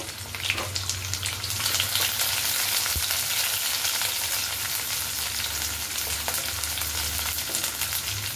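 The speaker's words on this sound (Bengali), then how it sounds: "পেঁয়াজটা একটু হালকা ভেজে নেব।" Onions lightly frying in oil in a pan, a continuous bright sizzle with occasional stirring scrapes, close and steady throughout without any voice.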